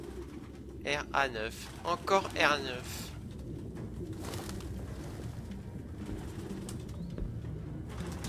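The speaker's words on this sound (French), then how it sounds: "Aucun humain ne pourrait vivre avec autant de pigeons." Pigeons in the video game Detroit: Become Human coo in a few short, close bursts amid a soft flutter of wings, over a low ambient hum, with a voice speaking briefly.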